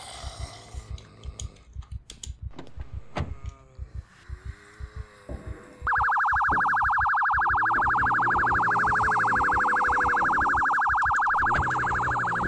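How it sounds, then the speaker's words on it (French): Car alarm siren from the Project Zomboid survival game kicks in suddenly midway and blares loud and continuous, a steady pulsing electronic wail, after scattered footsteps and small game noises. "j'ai déclenché l'alarme de cette voiture, enfin la sirène de cette voiture"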